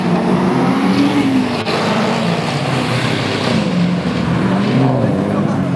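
A Chevrolet Camaro and a Ford Mustang drive past at a street car meet, their engines a loud, close, steady roar with rising and falling tones, while people talk over it.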